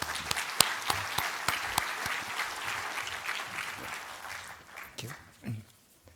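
An audience at the PSE-2015/ESCAPE-25 conference applauds to welcome a plenary lecturer, a steady patter of many hands clapping at moderate distance that gradually thins out and fades.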